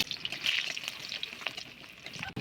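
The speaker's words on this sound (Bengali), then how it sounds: "কড়াই তেঁতে গেছে, দিয়ে দেবো সর্ষের তেল, রসুন কুচি এবং চেরা দুটো কাঁচা লঙ্কা দিয়ে দেবো।" Chopped garlic and slit green chillies frying in hot mustard oil in a heated pan, a close, steady crackling sizzle with brief stirring scrapes and no talk.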